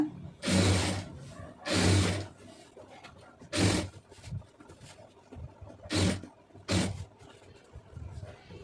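A sewing machine stitches the lining of a blouse in short repeated bursts, each lasting under a second, separated by quiet pauses, close and fairly loud.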